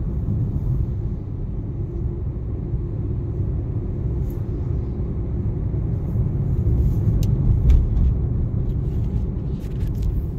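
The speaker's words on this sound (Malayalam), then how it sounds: "ഇപ്പം നമുക്കൊന്ന് ജസ്റ്റ് വഴിയിലൊന്ന് ഓടിച്ചു നോക്കാം" A Maruti Swift car drives on the road, giving a steady low engine and road rumble that swells slightly midway, with faint clicks and no talk.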